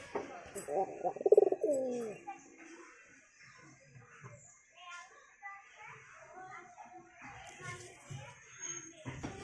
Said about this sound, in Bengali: উপরে যে দেখতে পারলা ওই পায়রা দুটো জোড়া নিছে